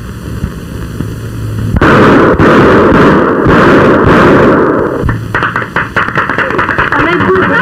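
Revolver gunshots ring out in a 1950 Filipino film, a burst of several loud, sharp cracks in quick succession followed after a pause by another volley, harsh and close over a hissy old soundtrack.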